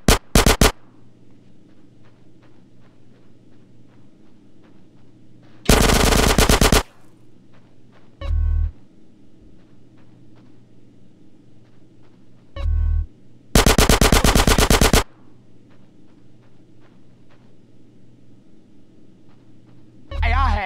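Machine gun fire in the video game GTA San Andreas rattles in loud, dense bursts of a second or so, interspersed with shorter single blasts and low background hum of game ambience.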